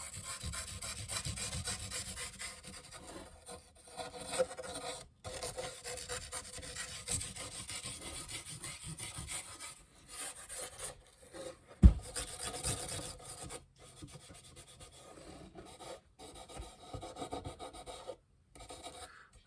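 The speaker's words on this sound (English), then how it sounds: "I'm just kind of rubbing it in all the cracks." A chunk of charcoal is rubbed into the cracks of an old wooden box guitar during restoration, giving a steady dry rasping scrape with short pauses and one sharp knock, close and alone.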